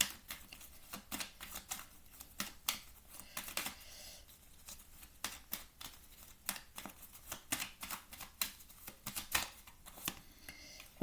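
Tarot cards are shuffled and drawn in a stream of quick, light flicks and snaps, close but quiet, with soft papery rustling between the clicks.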